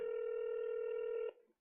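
A telephone ringback tone sounds as a number is dialed, one steady electronic tone held for over a second before cutting off sharply, fairly quiet with no talk over it.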